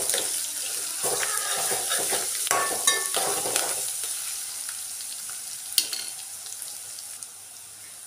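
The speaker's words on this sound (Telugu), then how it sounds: "పావు టేబుల్ స్పూన్ అల్లం వెల్లుల్లి పేస్ట్ వేసుకోవాలి. వేసి కలుపుకోవాలండి." Ginger garlic paste frying in a pan for cauliflower curry, a steady bright sizzle with scraping stirring strokes throughout, loudest early and easing slightly toward the end.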